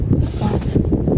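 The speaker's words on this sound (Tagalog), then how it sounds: "Tapos yung tunog po ng hangin" Strong wind at an outdoor scenic viewpoint, gusting loudly and buffeting the microphone as a low, continuous roar across the whole moment.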